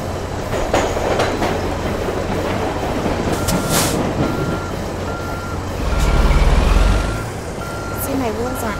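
A truck backs up in American Truck Simulator, repeated reversing beeps sounding steadily over a rumbling engine, with a deeper engine surge near the end and a player talking over it.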